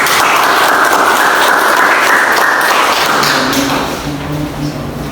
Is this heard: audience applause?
yes